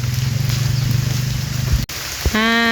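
Steady broadband rain falls outside near a charcoal stove during the Buddhist Lent season, a continuous close wash of patter with a low hum beneath, briefly cut off before a tonal whine rises at the end.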